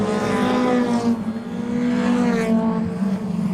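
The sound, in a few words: race car passing on oval track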